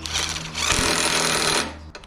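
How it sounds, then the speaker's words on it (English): A power tool whirs in a short burst of about a second, tightening the handlebar bolts on a 2023 Harley-Davidson Street Glide motorcycle, loud and close, then stops. "if you're not comfortable using power tools like this, hand ratchet's fine too"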